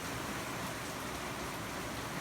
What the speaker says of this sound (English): it started raining on our way back from Bill and Jean's